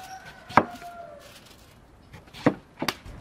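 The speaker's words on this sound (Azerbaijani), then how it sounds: "Kartoşkanı figurla kesirəm, halqa-halqa." A knife chops potatoes into rings on a board in a country kitchen: three sharp, separate knocks, one early and two close together near the end, over a quiet background.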